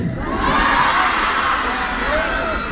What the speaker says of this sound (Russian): вы очень громко хлопайте в ладоши и подождите, подождите,